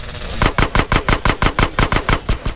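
Rapid gunfire in the video game GTA San Andreas: a burst of about a dozen loud, evenly spaced shots in quick succession, close and alone.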